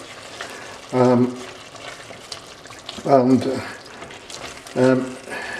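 Red onion frying in a pan for a chicken dopiaza curry, giving a steady sizzle with several louder bursts of stirring or adding; a voice speaks in bursts over it.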